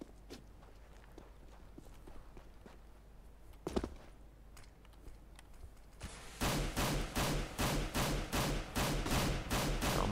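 Rapid gunfire in Counter-Strike on the de_dust2 map, a steady run of loud regular shots in the last few seconds after quieter footsteps and a single earlier shot.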